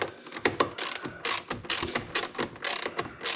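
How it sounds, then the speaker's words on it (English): Bolts are tightened to torque on a 2019 Holden Colorado 2.8L turbo diesel with a rapid ratchet clicking in close, irregular bursts of metallic ticks. "Tighten them down to the specified factory torque."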